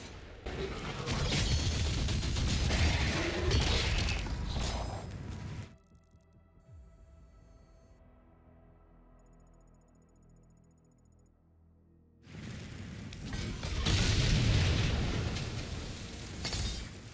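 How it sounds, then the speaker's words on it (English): An artillery cannon is destroyed in the video game DOOM The Dark Ages: loud crashing, shattering destruction noise, then a quieter stretch with a sustained mechanical tone, and another heavy burst of crashing debris near the end. "We'll take out that artillery cannon as it is a part of our mission challenges"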